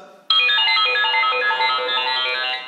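A Star Wars themed alarm clock ringtone bursts in loudly and plays a bright, continuous electronic melody of layered tones, holding steady to the end with no voices.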